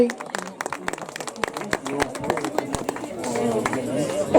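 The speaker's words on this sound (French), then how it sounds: "on peut l'applaudir très très fort" Spectators at a duathlon race in Ploufragan clap for a competitor, with scattered sharp claps that thicken into fuller applause near the end, under ongoing talk.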